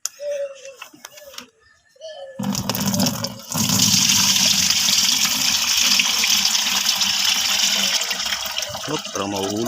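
Crushed chili pepper juice poured into a container, a loud steady gushing pour that starts after a few seconds of talk and continues, with voices speaking over it.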